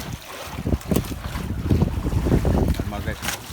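Strong gusting wind buffets the microphone while waves slap around a small fishing boat at sea after heavy rain, in rough, uneven bursts, with some voices mixed in.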